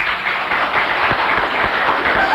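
A studio audience applauds in a dense, loud, continuous burst of clapping that stays even and close throughout.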